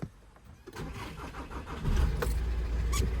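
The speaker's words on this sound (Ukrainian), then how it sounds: "машина заводиться" A 2.0-litre VW Sharan engine cranks briefly, then catches and settles into a steady, loud idle rumble nearby.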